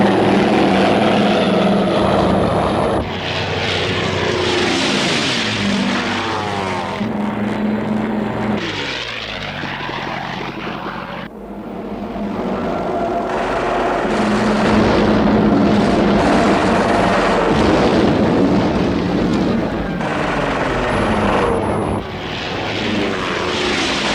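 Aircraft engines drone loudly and steadily throughout, with enemy planes approaching; the roar swells and dips as propeller tones shift and sweep, with no voices.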